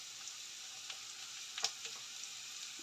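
Potatoes fry in a pan as cut bitter gourd is added, making a faint, steady sizzle with a few light clicks and taps of stirring, and no voices.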